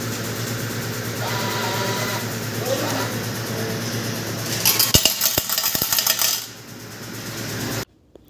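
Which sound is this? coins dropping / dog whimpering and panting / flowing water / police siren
coins dropping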